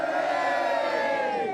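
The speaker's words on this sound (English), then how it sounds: "Listen to that for a cheer." A crowd of locals gathered outdoors by their decorated homes cheers loudly and continuously, a dense wall of massed voices with no break.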